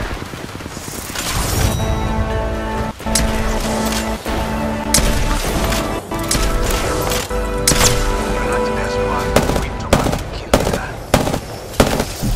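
Heavy, sustained gunfire rattles through a match of the battle royale shooter Apex Legends, with rapid bursts and sharp individual shots cutting in over a constant droning game background for the whole stretch.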